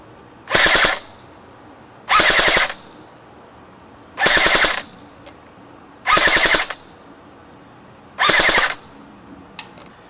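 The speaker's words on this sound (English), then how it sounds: "we're going to take aim at the 150-foot target and see what we get" A JG AK47 Spetsnaz airsoft gun fires BBs at a 150-foot target in five sharp full-auto bursts, each roughly half a second long, evenly spaced by quiet gaps, loud and close.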